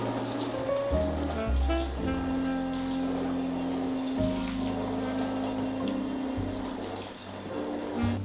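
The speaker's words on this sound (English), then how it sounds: "So let's water it first. Love having a shower hose attachment." A plant being watered from a shower hose attachment, water streaming steadily and splashing into soil and a basin, with shifting pitch as the flow changes, close and continuous with no talking.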